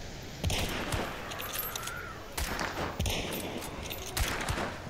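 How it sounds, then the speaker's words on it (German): Rifle shots fired through a scope in the video game Hunt: Showdown, several sharp reports spaced a second or two apart over a steady outdoor game ambience. "Ich habe da mit meinem Zielfernrohr ein paar Mal drauf rumgeballert"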